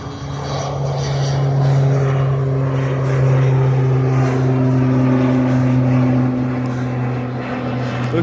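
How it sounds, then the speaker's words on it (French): Propeller airplane droning steadily overhead near Chambéry, a loud continuous engine hum with a strong low tone, holding constant for the whole stretch with no voices. "Ah, un avion?"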